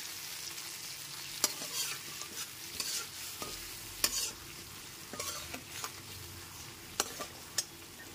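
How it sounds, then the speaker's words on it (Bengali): Spice paste frying over a medium gas flame in a pan, soft continuous sizzling with repeated scraping strokes of a spatula and occasional sharp clinks against the pan, close and fairly quiet. "এবার গ্যাসের ফ্লেমটা মিডিয়ামে রেখে মশলাটা খুব ভালো মতো কষিয়ে নিতে হবে।"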